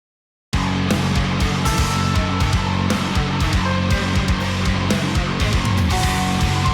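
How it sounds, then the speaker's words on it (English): A metal song with dense, loud full-band playing, a low-gain guitar sitting quietly in the background beneath a keytar lead melody, drums pounding steadily throughout. "You can hear the guitar in the background"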